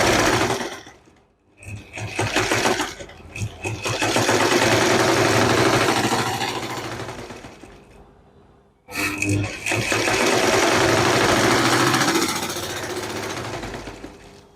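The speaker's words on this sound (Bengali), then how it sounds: "এখন আমরা রেগুলেটরটা চাপ দিলেই মোটরটা চলবে।" An electric motor fitted to an ordinary sewing machine runs steadily when its regulator is pressed, giving a loud, close, continuous mechanical whir with rapid needle clatter that stops briefly and restarts after a short pause.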